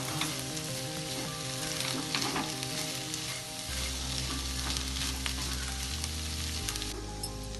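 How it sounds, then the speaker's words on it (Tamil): Karunai kilangu (elephant foot yam) cutlet mixture with coriander leaves sautéing in a pan, a steady close sizzle with stirring scrapes throughout, no voices. "கொஞ்சமாக கொத்தமல்லி போட்டு நல்லா வதக்கிக்கலாம்."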